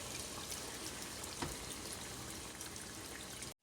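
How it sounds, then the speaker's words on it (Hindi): About two glasses of water are poured into a pot of Sindhi biryani, making a faint, steady rushing pour for several seconds that cuts off abruptly, with no talk. "अब ये इसमें तकरीबन 2 गिलास पानी डाल रहे हैं।"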